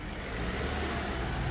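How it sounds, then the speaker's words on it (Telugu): Engine of a Mahindra XUV500 W8 running steadily, a continuous close mid-range drone with a low rumble and no clear rise in pitch, heard alone without talk. "ఇంజన్ యొక్క నాయిస్ కూడా సైలెంట్గా అయితే ఉంది"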